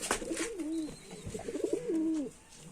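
Rajshahi Giribaz pigeons coo softly nearby, two rolling, throaty phrases with a short pause between them, fairly faint and with no voices over them.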